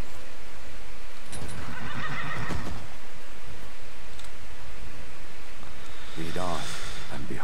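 A horse in the video game Skyrim neighs loudly after being called with a horse call, a shrill whinny rising over a steady rushing background, with hoof clip-clops and someone talking briefly.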